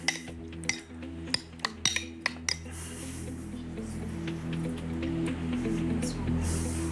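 Cutlery clinks and taps against a dish as whipped cream dessert layers are stirred, a series of sharp close knocks in the first half giving way to softer continuous scraping and shuffling, with faint voices in the room.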